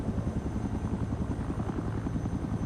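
A helicopter in the military video game Project Reality, its rotor giving a steady, fast, rhythmic chop with engine rumble, loud and continuous throughout with no voices.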